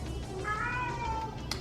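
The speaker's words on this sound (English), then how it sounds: "That's just my cat meowing." A pet cat gives a single drawn-out meow, close and fairly clear over low background hum, rising then falling over about a second.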